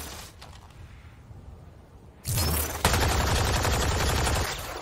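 Rapid automatic gunfire from a weapon in the video game Mass Effect Andromeda breaks out loud and dense after a quieter stretch, then keeps hammering to the end.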